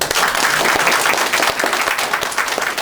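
Loud, full welcome applause from an evening audience greeting speaker Michael Richardson at a TAC talk, a dense, continuous crowd of clapping hands close by, with no voices over it.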